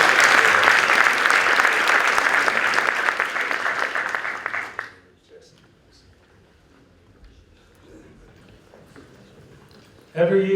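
Audience at a tourism startup pitching session breaks into loud applause that lasts about five seconds and fades out, followed by near silence and then a voice starting to speak.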